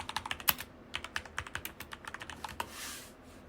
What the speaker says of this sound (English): Now, let's type